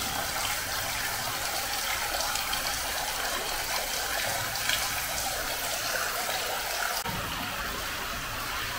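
Heavy water gushing and dripping inside Coseley Tunnel, a steady loud wash of falling water pouring onto the path, continuous and close for the whole stretch with no voices.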